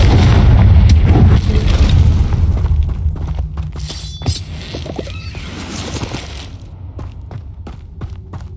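A Confringo explosive spell goes off in Hogwarts Legacy, a loud booming blast that rolls on with rumbling debris and crackling impacts, tapering off with a few sharp scattered hits.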